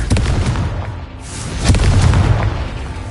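Spell explosions in Hogwarts Legacy go off as deep, booming blasts, two heavy detonations in quick succession with rumbling low end and crackling debris, loud and close, with no voice.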